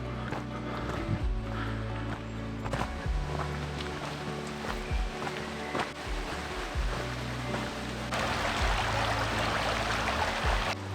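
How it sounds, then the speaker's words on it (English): A brook in Gwyddon Valley, South Wales, flows with a steady broadband rush that stays continuous throughout and grows a little brighter and louder near the end. "lead us down to the brook where there should be some bridges"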